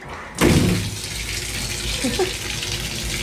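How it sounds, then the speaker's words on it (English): An apartment shower bursts on after a brief pause and keeps running as a loud, steady rush of water close by, with a faint voice briefly audible under the spray. "Also, I was trying to turn the shower on"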